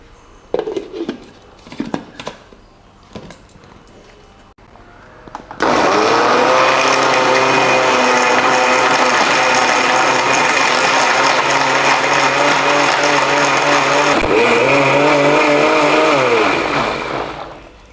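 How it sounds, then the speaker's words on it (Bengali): A mixer grinder blends watermelon, mint and sugar into a paste. After a few quiet handling clicks it starts abruptly and runs as a loud, steady whirring roar for about eleven seconds before winding down. "এখন এটা আমি মিক্সারে বেশ ভালো করে পেস্ট করে নেব।"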